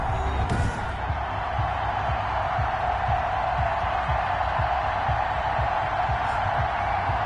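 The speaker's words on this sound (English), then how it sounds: "This crowd is ready as their guys get set to match up between the Washington football team and the New York Giants." A stadium crowd in the Madden 21 football video game, ahead of a Washington Football Team versus New York Giants matchup, roars in a steady, loud wash of cheering that holds throughout.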